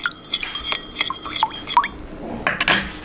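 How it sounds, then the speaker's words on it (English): A spoon stirs pickling liquid in a container to dissolve salt and sugar, giving light clinks and taps against the sides and soft liquid swishing, close and intermittent. "So I'm going to give that a good stir around to dissolve the salt and the sugar"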